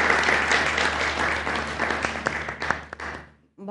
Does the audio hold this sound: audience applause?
yes